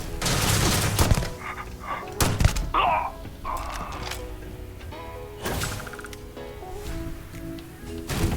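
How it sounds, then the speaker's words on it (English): Starfield video game weapons without a silencer fire several sharp, loud reports at irregular intervals, with thuds and mechanical game effects between them. "Obviously they're going to hear me when I shoot with this one, because there's no silencer."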